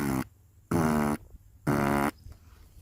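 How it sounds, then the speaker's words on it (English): Three separate buzzing lip blasts, each about half a second long, the vibrating-lips technique used to play a didgeridoo, loud and close with short pauses between. "the way we play the didgeridoo is by doing a noise like this with our lips."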